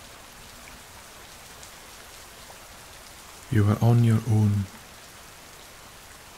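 Relentless rain falls steadily in the misty loch and hill country near Aberfoyle, a soft, even hiss throughout, with a voice briefly speaking over it partway through.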